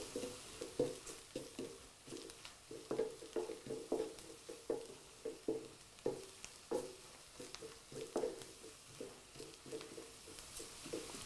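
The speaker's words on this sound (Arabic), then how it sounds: "اذا نخلط مليح، نحمص هذيك الفرينه" Flour toasting dry in a pan with rhythmic stirring, soft repeated scrapes of a spoon against the pan at an even pace, quiet and close, with no voices.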